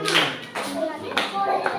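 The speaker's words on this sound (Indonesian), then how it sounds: "Oke, tepuk tangan untuk kelompok 1." A classroom of children claps for a group of classmates after an ice-melting science answer, with a short burst of hand claps mixed with children's voices and talk.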